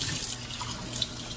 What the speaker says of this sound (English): Rinse the cup out.